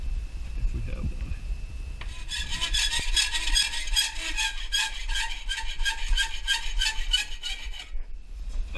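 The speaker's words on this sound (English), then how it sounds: "I think I'm going to use the hacksaw, but probably try a new blade if we have one." A hacksaw cuts aluminum stock for a custom fuse holder install, a steady rhythmic rasping that starts after about two seconds and runs close and loud until near the end.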